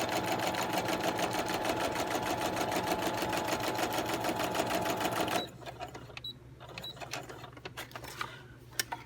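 A sewing machine quilting fabric, running in a fast, loud, even rhythm for about five seconds before stopping, followed by lighter clicks and handling noises.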